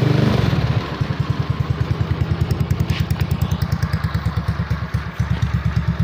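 A Yamaha Mio motorcycle fitted with a PE carburetor starts up and settles into a steady, loud idle, its single-cylinder engine chugging in a quick, even rhythm close by.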